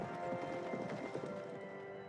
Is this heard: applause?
no